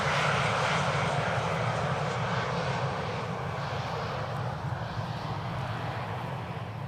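A fixed-wing airliner on approach to runway 18R, the Polderbaan, at Amsterdam Schiphol gives a steady, loud broadband engine roar that holds evenly throughout, with no talk.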